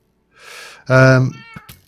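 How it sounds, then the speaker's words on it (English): A giant cat in a modded Minecraft-style video game gives a loud, close meow after a breathy lead-in, followed by a few faint clicks. "Giant kitty cat."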